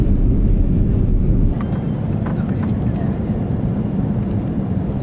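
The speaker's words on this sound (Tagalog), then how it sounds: "Take off na tayo." From inside the cabin of a passenger airplane on its takeoff run, a loud, steady broadband roar of engines and airflow fills the clip. It eases slightly after the first second and a half, then holds constant.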